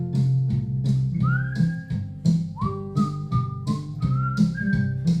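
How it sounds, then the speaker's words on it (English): A backing track for a ukulele play-along plays steadily, with a rhythmic accompaniment under a clear, whistle-like melody that slides between notes. It is fairly loud, with no voices. "So that's the backing track."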